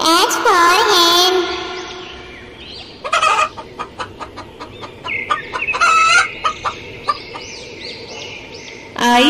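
A hen clucks in quick, choppy bursts, followed by a stretched squawking call, close and fairly loud.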